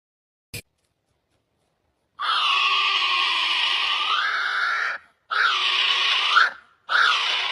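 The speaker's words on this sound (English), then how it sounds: "Kiwi." A kiwi bird calls: a brief click, then one long, loud, shrill harmonic scream followed by two shorter ones in close succession, with no other sounds.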